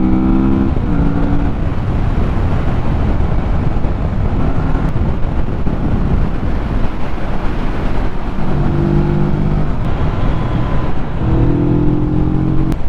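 A Kawasaki Vulcan S middleweight cruiser engine revs while riding, its pitch climbing and dropping in surges under steady wind roar.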